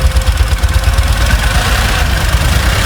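Phase 2 Tata Nexon petrol engine idling right after a restart, heard as a steady, close, loud low rumble with constant vibration and no talking.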